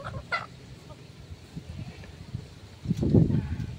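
A hen of Peruvian blood clucks in short bursts, with a louder cluster of clucks near the end over quiet background.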